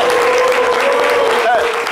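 A television studio audience claps loudly and continuously, a dense close applause filling the room, with a voice over it.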